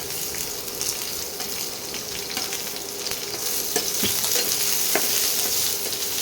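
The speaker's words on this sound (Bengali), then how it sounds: "পেঁয়াজগুলো একটু ভাজা ভাজা করে নিই।" Thick-cut onions sizzling as they fry in hot oil, a steady continuous crackle with occasional sharper pops and stirring sounds, close and moderately loud, no talking.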